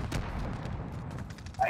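Gunfire in the battle royale game Call of Duty Warzone, a burst of rapid, sharp shots with booming low end, loud and close, ending in a brief tonal game sound.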